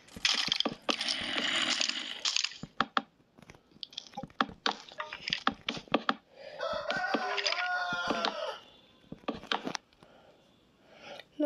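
Chickens in the Minecraft video game cluck repeatedly, with bursts of squawking and clucking mixed with quick clicking sounds and short pauses between the calls.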